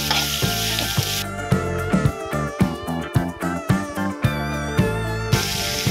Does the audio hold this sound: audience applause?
no